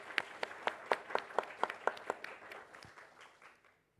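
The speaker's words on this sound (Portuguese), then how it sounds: "Palmas." An audience gives a short burst of applause at the close of a talk on adventure tourism certification. Sharp claps start strongly and thin out over a few seconds to silence.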